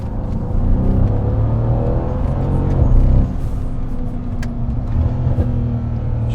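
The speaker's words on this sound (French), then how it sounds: "Ah, ça pétarde fort quand même." Mercedes C63 AMG W205 in Sport Plus mode, a deep, loud engine rumble with revving swells and scattered sharp exhaust pops, close to the car with no talk.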